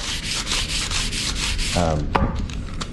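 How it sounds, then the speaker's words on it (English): Sandpaper rubbing back and forth over a painted wooden newel post, steady close scratchy strokes with a brief scrape near the end, no talk. "I am going to run sandpaper across it, kind of smooth it out some more"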